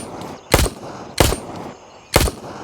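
Three single Glock pistol shots in the military shooter game Gray Zone Warfare, loud, close and sharp, spaced slightly unevenly under a second apart, with low background noise between them.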